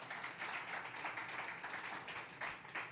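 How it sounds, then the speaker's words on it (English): Crowd applause at a federal technology conference closing ceremony, a steady wash of clapping at moderate level that continues evenly throughout. "That deserves some applause too, by the way."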